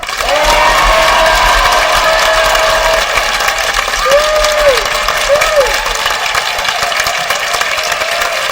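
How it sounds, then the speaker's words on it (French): A large audience at a talent show applauds and cheers loudly for the children, a dense, sustained clapping roar throughout, with some whistles or tonal sounds rising over it midway. "on va faire beaucoup de bruit, en applaudissant très fort"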